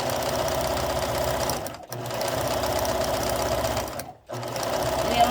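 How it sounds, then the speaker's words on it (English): A sewing machine stitches down quilt binding in a steady, fast mechanical whir that runs continuously, cutting out twice for brief pauses before resuming. "then I just start up here where I left off and sew down that side"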